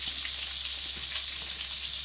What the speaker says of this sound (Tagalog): Prito tayo para madali.